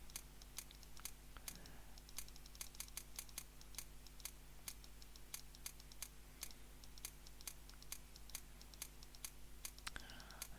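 Keys tapped on a keyboard in a hidden-object adventure game spelling out a word, a steady run of light, separate clicks spread over about ten seconds against a quiet humming background.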